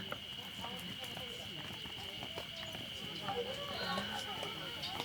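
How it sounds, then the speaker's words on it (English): A herd of cows walks past on a daily migration route in Gunma, Japan, with steady overlapping hoof clops on pavement, close and continuous over a constant high-pitched background tone. "Cow migration."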